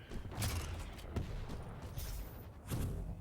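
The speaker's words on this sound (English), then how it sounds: "Oh, those rockets are huge." Rocket launcher blasts in the Quake arena shooter, heavy booming explosions in quick succession over a rumbling low-end backdrop of game action.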